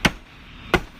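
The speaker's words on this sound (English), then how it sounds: "just hammer them in as far as they go." Two sharp hammer strikes, about two-thirds of a second apart, drive wooden toothpicks into screw holes during a home repair, close and crisp with quiet between blows.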